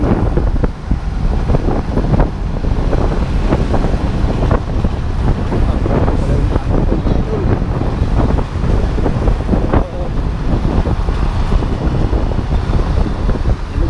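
Waves lapping by the water at night in Taguig, heard as a loud, steady wash of surf and wind buffeting the microphone, continuous throughout with no speech.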